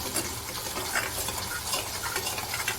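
Spiced masala frying in desi ghee in a kadhai for an arbi curry, heard as a continuous dense sizzle with stirring scrapes, close and even, with no talking.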